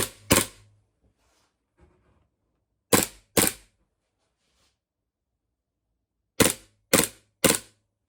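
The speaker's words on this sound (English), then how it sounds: "We make the gun ready, select full auto, which we have," Gas-charged airsoft gun fired on full auto from a gas magazine, heard as loud sharp cracks in short clusters: two quick shots, then two more, then a closing burst of three, with quiet gaps between.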